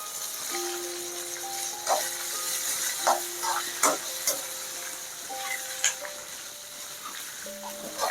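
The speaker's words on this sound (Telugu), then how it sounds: "ఇప్పుడు ఈ సాంబార్ ఆనియన్స్ వేసుకుంటున్నాను. ఆనియన్స్ వేసుకొని ఫ్రై చేయాలి." Sambar onions frying in hot oil with chana dal, urad dal, cumin, pepper and dried red chillies for Kerala sambar, a steady sizzle under a few sharp stirring clinks and pops, no voices.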